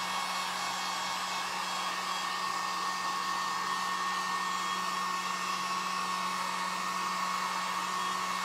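A hair dryer runs steadily at close range, drying stitched fabric with a constant, even whir and no pauses.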